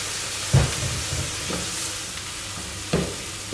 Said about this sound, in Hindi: इसी के अंदर मैं इन चावलों को हल्का सा फ्राई करूँगी।